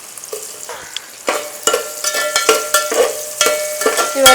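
Onions, green chilies and biryani masala fry in a pan, sizzling quietly while a spoon scrapes and stirs in repeated strokes that get louder and more frequent.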